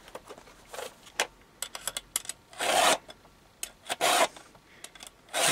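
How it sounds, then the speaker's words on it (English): A hand file sharpening a chainsaw chain gives irregular rasping strokes, some short and some longer and louder, with brief pauses between passes, close up and heard alone. "I'm sharpening this blade in about 10 minutes."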